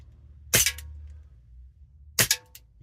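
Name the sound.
airsoft Colt 1911 Cybergun pistol slide action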